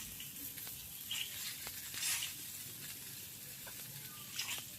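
Cut eggplant pieces frying in oil together with browned potatoes, a faint steady sizzle with soft stirring scrapes, no talking.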